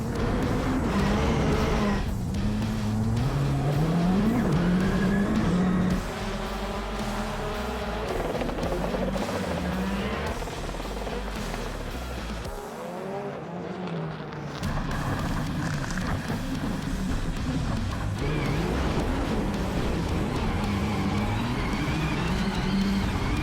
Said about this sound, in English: Watch for Arpin on the inside line, going to make a jump pass on Fraser McConnell